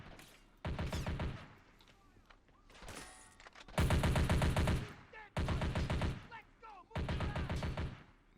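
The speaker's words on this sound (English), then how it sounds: "He's shooting all around him" Bursts of automatic gunfire from attackers in the Men of War video game, loud rapid volleys in several separate clusters, with a commentator's voice faintly in the gaps.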